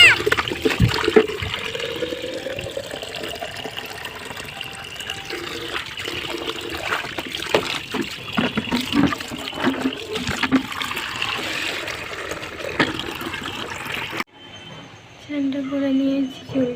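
Water running and splashing as containers are filled from an outdoor tap, a steady trickle and gush lasting most of the stretch before cutting off, with a short quieter passage at the end.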